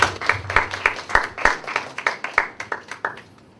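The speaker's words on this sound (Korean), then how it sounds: "환영의 박수로 맞이해주세요." A small group in a university church worship service claps in welcome as a speaker comes forward, a close, sparse run of distinct claps with a rough shared rhythm that thins out and stops near the end.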